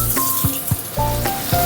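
Eggplant, potato and onion go into hot oil with fried tempering spices and sizzle loudly in a few short bursts over a steady hiss, with a faint tone humming underneath.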